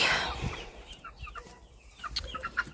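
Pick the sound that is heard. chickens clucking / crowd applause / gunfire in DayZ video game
chickens clucking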